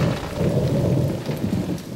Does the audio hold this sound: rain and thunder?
yes